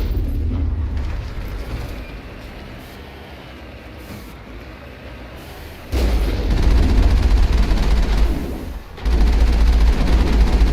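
Gunfire in a Mass Effect shootout, a steady loud barrage of shots that swells sharply around the midpoint and again near the end, with dense bursts filling the whole stretch.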